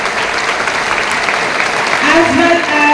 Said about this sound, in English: Let us give a big round of applause to Panini House